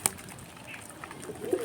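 A pet pigeon with reddened eyes, kept for hand feeding, gives a faint, low coo near the end of a quiet stretch of soft room noise.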